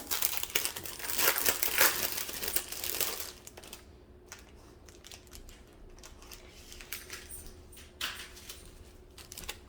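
Plastic sachet of diamond painting beads being handled, with close crinkling and rattling of the small beads inside. Loudest in the first few seconds, then quieter, with light crackles and taps.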